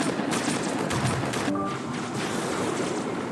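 Gunfire in Halo Wars, a rapid burst of shots rolling together into a loud, steady battle roar with a brief tonal unit chirp in the middle, no talk.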